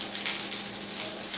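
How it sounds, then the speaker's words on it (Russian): Minced meat cutlets fry in a pan with a soft, even sizzle that hisses steadily and fairly quietly throughout, with no talking. "И вот они жарятся, вот такие котлетки."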